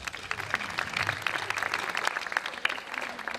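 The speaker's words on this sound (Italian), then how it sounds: "Benissimo, un applauso" An audience at a dance school's end-of-year show in Chiaravalle, Italy claps in a steady, moderately distant wash of applause. Faint voices murmur underneath, and the applause holds an even level throughout.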